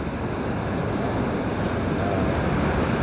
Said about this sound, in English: Seal Beach, the waves are keeping up right now